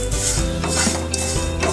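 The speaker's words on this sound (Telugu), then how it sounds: "ఒక టీ స్పూను ఆయిల్ వేసి సేమియా ఒక్క నిమిషం దోరగా వేయించుకుందాం" Vermicelli (semiya) roasting in a teaspoon of oil in a pan, a steady close sizzle with scraping and stirring strokes against the metal, no voices over it.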